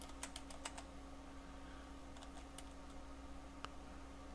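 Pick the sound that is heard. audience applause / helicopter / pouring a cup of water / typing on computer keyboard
typing on computer keyboard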